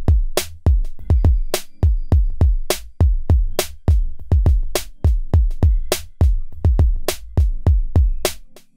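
A house drum kit from a Roland XV5080 rompler plays a steady, basic beat: punchy kicks, crisp snare hits and light ghost notes in an even loop, loud and clean with no voices over it.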